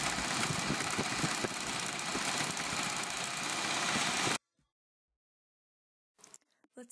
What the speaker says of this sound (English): blew a leaf blower at it to create artificial wind